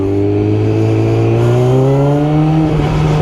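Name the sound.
Yamaha R6 5EB motorbike engine revving with clutch problem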